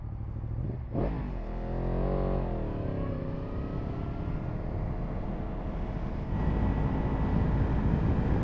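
A Yamaha MT-10 motorcycle on slick, muddy tires opens with a sharp rev, then its engine pitch rises and falls through gear changes and settles into a steady, moderately loud drone as it rides on.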